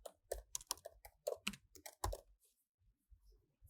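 Typing on a computer keyboard while filling in a web form field, a quick burst of close, crisp key clicks followed by a few sparse, softer taps, with no talking.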